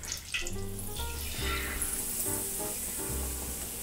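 Ingredients for tempura sizzle and hiss as they deep fry in hot oil, a steady bubbling crackle with a soft voice speaking over it and a low musical backing.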